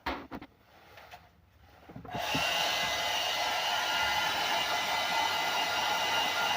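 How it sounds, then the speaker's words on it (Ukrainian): A hair dryer switches on after a few quiet clicks and knocks, then blows a steady, loud broadband whoosh close by for several seconds, drying a washed circuit board from a smart TV box. "Висушую феном."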